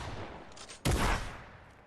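A single sharp shotgun blast from a pump shotgun in the Fortnite video game, one loud burst near the middle that briefly rings out over a quiet background, with no talk.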